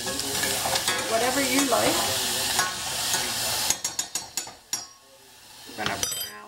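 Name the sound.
garlic frying in a pan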